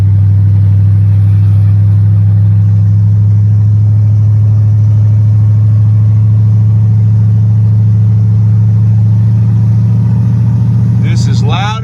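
A Ford Galaxie muscle car idles and runs with open headers and no exhaust pipes, a loud, steady, deep rumbling drone that holds close and constant for the whole stretch, ending with a faint, brief noise.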